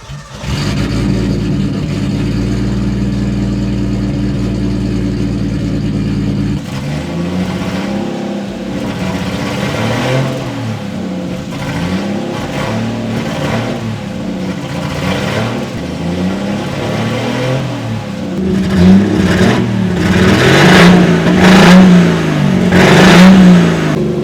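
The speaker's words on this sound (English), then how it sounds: "So we're gonna start the car and we're gonna see how she sounds." A turbocharged RB engine in a straight-piped Nissan 240SX cranks over and fires up, settling into a loud, rough idle before a series of sharp revs, with the last several seconds climbing into repeated hard, raspy bursts.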